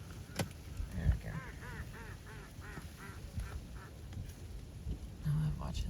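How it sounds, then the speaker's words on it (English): Ducks on the water quack in a rapid series of repeated calls, moderately close and fairly quiet, with faint outdoor background noise. "Now I'm watching the ducks playing on the water"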